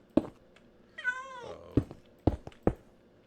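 A cat in the video game Minecraft meows several times, short close synthetic mews alone with a longer wavering call in the middle, no talk over it.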